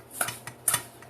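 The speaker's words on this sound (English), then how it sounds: "let me go ahead and put the rest of the sugar on the fruit and stir that around." Spoon scraping and clinking in a bowl while sugar is stirred into peach slices for a cobbler, a few light, close taps and scrapes in a quiet kitchen.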